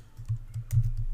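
Typing on a computer keyboard, a quick run of soft key clicks and taps, close and fairly quiet, with no talking.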